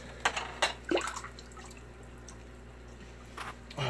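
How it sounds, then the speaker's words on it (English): A flowerhorn fish is lowered back into aquarium water, giving a few close splashes and drips at the start, then quiet with a couple of soft splashes near the end. "And now I'm going to put him back in the water."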